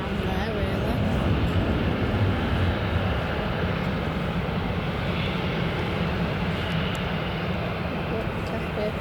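Airliners at Manchester Airport fill the air with a continuous broad jet-engine roar, steady and fairly loud throughout, with no break.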